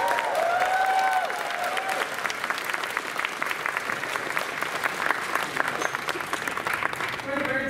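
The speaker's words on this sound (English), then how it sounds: "Everyone give her a round of applause." Warm applause welcoming an author at the opening ceremonies of a convention, a sustained wash of clapping from a sizeable audience, with a voice speaking over it briefly at the start.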